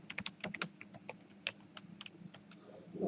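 Code being typed on a computer keyboard, with quick, fairly soft key taps in short irregular bursts over a faint low background hum and no voices.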